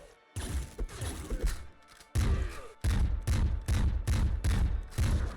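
Gunfire in the video game Nuclear Throne, shooting at a golden tank: a rapid series of punchy, booming shots, some close together in bursts, with short gaps and steady rhythm toward the end.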